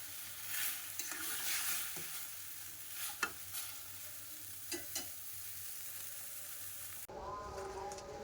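Bitter gourd fries in oil with a faint, steady sizzle and a few clicks of stirring. A different, fuller sound takes over near the end.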